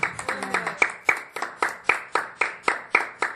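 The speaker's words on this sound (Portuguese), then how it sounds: "Dá uma salva de palmas a Jesus Cristo." Clapping from a church congregation praising Jesus Christ during a sermon: sharp, evenly spaced claps in a steady rhythm, fairly close, with a little background voice at the start.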